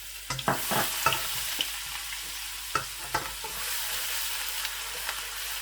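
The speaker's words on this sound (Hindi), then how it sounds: "मैं लहसुन की पेस्ट जो है 1 टेबलस्पून जो भर के मैंने लिया था उसी ऑयल में ऐड करूँगा जिसमें मैंने अरवी को फ्राई किया है" Garlic paste fries in hot oil already used for frying arvi, with a steady hissing sizzle broken by several sharp scrapes and knocks of a spoon stirring it nearby.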